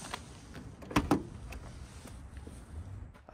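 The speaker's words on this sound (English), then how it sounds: "Doors open up very smoothly." Door of a styled 1965 Ford Mustang Fastback GT350 opening: a couple of quiet mechanical clicks from the latch close together, then a soft thud and faint creaks against a low background hum.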